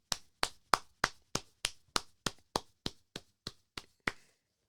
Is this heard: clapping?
yes